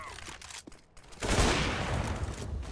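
Gunfire in the Counter-Strike video game breaks out after a brief lull into a dense, loud, sustained volley of rapid shots.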